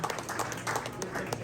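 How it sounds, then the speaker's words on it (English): An audience at a basketball tip-off party event gives a round of applause, dense scattered clapping that carries on steadily, moderately loud in a hall. "Let's give Tom a round of applause."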